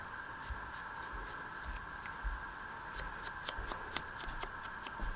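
Scissors cut paper for mini envelopes in a series of soft, crisp snips that grow more frequent toward the end, over a steady low background hum.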